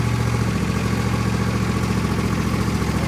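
A John Deere L118 lawn tractor engine runs steadily at an idle, producing a loud, continuous mechanical drone close by with no talking.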